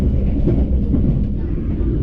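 The KA Sawunggalih train crossing the Serayu river bridge, a loud, steady, deep rumble of wheels and carriages heard close up without a break.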